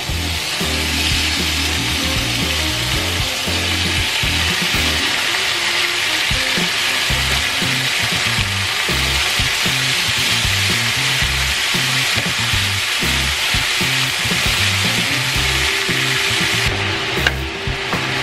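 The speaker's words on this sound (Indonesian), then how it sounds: "lalu togenya kita tuang" Bean sprouts stir-fry in a hot pan with salted fish, a loud continuous sizzle close up, with rhythmic scraping and tossing of a spatula against the pan throughout.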